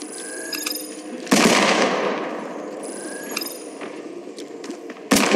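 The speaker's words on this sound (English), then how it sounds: "Opening fire!" Gunfire in the battle-royale game Apex Legends comes in two sharp, loud bursts, each with a ringing tail that fades, plus fainter clatter and thumps in between from a close-range fight.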